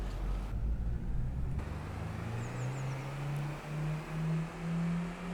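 A farm vehicle engine in Farming Simulator 25 drones steadily, its pitch climbing slowly as it revs higher under a rumbling low-end hum, fairly loud throughout.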